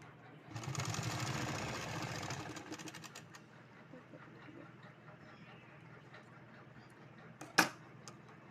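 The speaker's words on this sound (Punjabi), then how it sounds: "ਇਹ ਮੈਂ ਸਿਲਾਈ ਨਾਲ ਇਹ ਬੰਦ ਕਰ ਲਿਆ" A sewing machine stitches salwar fabric in a fast, loud, whirring burst lasting about two seconds. Quieter handling and faint clicks follow, then one sharp knock near the end.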